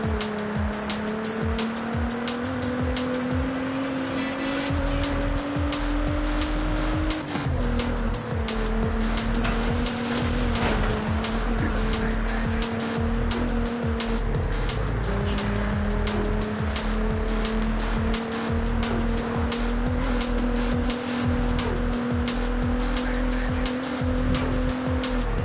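Nissan Fairlady engine roaring steadily in Forza Horizon 5, revs rising and falling with gear changes and tire squeal, loud and continuous with no talking.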